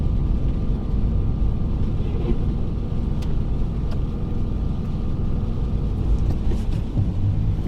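Manual Toyota 4Runner in 4 high, second gear, on a snowy mountain pass: a steady, dense engine and road rumble with low drivetrain drone, fairly loud throughout with no clear talking.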